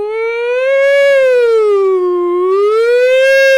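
A voice imitating an American police siren, a steady rising and falling wail with a rich harmonic tone, carried alone and loud for several seconds.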